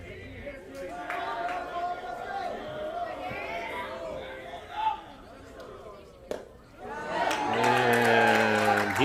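Crowd noise at a high school baseball game between the WF Jaguars and Tate Aggies after a called strike three, steady chatter and murmuring that swells into a louder mixed reaction of voices near the end.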